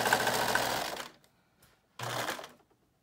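Sewing machine stitching a two-layer cotton mask: a close, rapid mechanical whir runs for about a second, stops for a pause with a faint click, then resumes in a second short burst.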